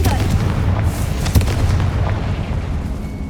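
Confringo blasting spell exploding in Hogwarts Legacy, a loud booming blast with a sharp crack just past the middle and a heavy rumbling tail.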